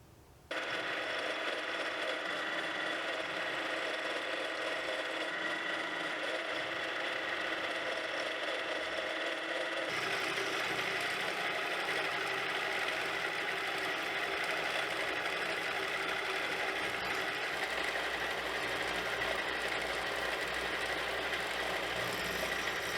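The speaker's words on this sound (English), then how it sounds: "After I got the slot milled, I put on a nice little chamfer to make it pretty, and less sharp." A milling machine cutting a slot in metal, a continuous steady machine whir with a grinding cutting tone that shifts slightly partway through, close and unbroken.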